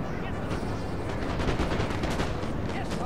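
Massed musket line volleys crackle in a Napoleon: Total War battle, a dense, continuous roll of gunfire with sharp overlapping shots over a steady rumble, with faint voice traces underneath.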